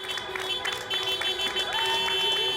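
Crowd applause for health workers in the United Kingdom, a broad steady wash of clapping and cheering heard from a distance, continuous throughout with a faint tonal hum underneath.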